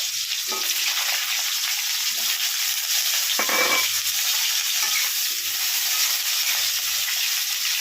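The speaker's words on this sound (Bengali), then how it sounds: "এবার আমি তেলের মধ্যে আলুগুলোকে ছেড়ে দিচ্ছি। ছেড়ে আমি আলুগুলোকে ভেজে নিচ্ছি।" Potatoes frying in hot oil for a Bengali prawn curry, giving a steady, loud broadband sizzle that runs unbroken throughout, with a few brief bursts where the pieces shift in the pan.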